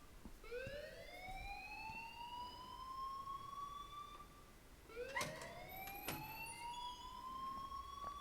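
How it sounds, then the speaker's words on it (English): An electronic alarm in the video game Life Is Strange wails in rising siren-like sweeps, one long rising tone followed by another, playing alone at a low level. "please turn off that alarm since that's your job"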